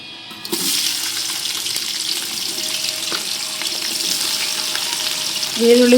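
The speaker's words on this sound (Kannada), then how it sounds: "ಈರುಳ್ಳಿ ಚೆನ್ನಾಗಿ ಫ್ರೈ ಆಗಿದೆ." Onions frying in hot oil for biryani give a steady, close sizzle with faint stirring clatter throughout, swelling slightly louder near the end; no one speaks.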